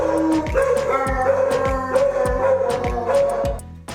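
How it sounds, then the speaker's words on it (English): Several dogs on a farm bark and howl together, sustained howls overlapping with sharp repeated barks, loud and close throughout with no talking. "And what's a farm, or a YouTube video for that matter, without a bunch of dogs and cats?"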